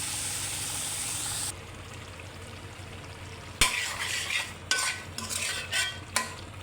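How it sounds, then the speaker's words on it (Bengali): Beef liver and lungs fry and get stirred in a pan, a loud steady sizzle at first that drops to a quieter hiss, then scraping stirs come in bursts up close. "একবার ছোটো ছোটো করে ভুনা করছি"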